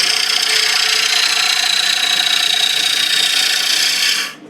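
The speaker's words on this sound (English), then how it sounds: "that's a fairly aggressive cut. Some fairly heavy shavings going on there" Wood lathe turning a bowl with an aggressive cut, throwing heavy shavings: a loud, steady hissing tear of the gouge against spinning wood, close and continuous, stopping abruptly at the end.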